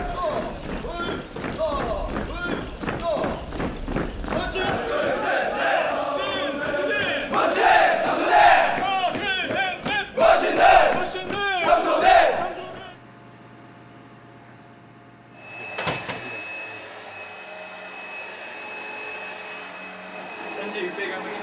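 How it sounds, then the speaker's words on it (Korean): JSA guard soldiers in the demilitarised zone shout together in the early morning in loud, rhythmic chanted bursts for about twelve seconds. Quieter outdoor ambience follows, broken by one brief thump. "이른 아침 JSA 경비대 대원들의 함성이 한반도를 가르고 있는 비무장지대를 깨웁니다"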